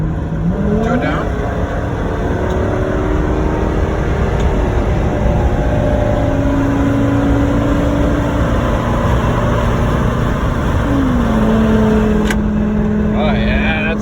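A Triton V10 dump truck fitted with a custom exhaust rumbles continuously close by, its pitch rising and falling through a few revs, with a voice speaking over it.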